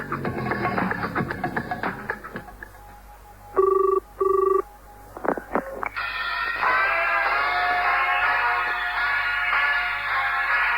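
A telephone rings before an answer phone picks up, with two clear electronic trill bursts and a couple of short clicks after some opening music, followed by a swelling musical tone.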